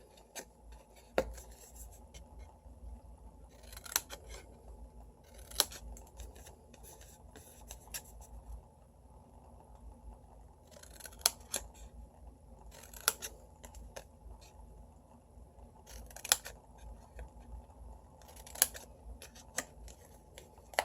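Scissors cutting paper for a Halloween treat box: repeated crisp snips in small clusters, close and fairly quiet over a faint steady background hum.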